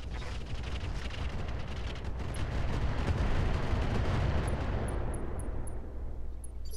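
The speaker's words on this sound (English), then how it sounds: "Hit him with some incendiaries." Incendiary weapons fire at an Atlas mech in the Roguetech video game, a heavy rumbling barrage that swells in the middle, with faint clicks near the end.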